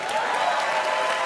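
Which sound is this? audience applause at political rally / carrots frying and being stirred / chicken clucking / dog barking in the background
audience applause at political rally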